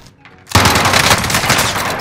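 Loud gunfire crashes in abruptly after half a second of near silence in Call of Duty Warzone, a dense sustained burst of shots that fills the rest of the moment with no talk over it.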